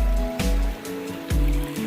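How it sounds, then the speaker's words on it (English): A small trail creek flows near at hand along the Appalachian Trail, a steady broadband wash of running water with brief louder splashing surges, heard alone without talk. "Getting some water here at this little creek."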